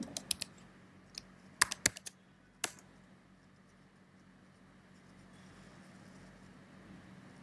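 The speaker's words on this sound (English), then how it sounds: "So I'm gonna type my new password." A few quick keystrokes on a computer keyboard while a password is typed, scattered soft clicks in the first few seconds, then a quiet room hum.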